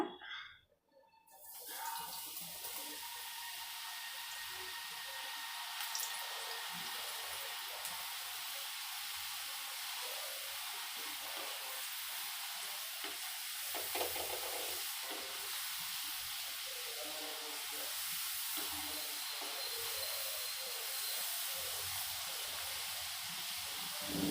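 French fries sizzle in hot oil in a home kitchen, a loud continuous bright hiss that starts abruptly and holds steady throughout with no voices over it.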